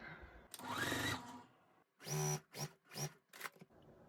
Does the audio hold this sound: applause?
no